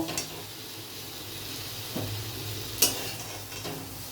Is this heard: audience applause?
no